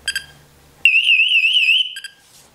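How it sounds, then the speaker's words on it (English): Firefighter's SCBA personal accountability alarm (PASS device) sounding a loud, warbling high-pitched electronic tone for over a second, preceded and followed by short beeps. "We have our personal accountability alarm. And this will activate in case a firefighter is down."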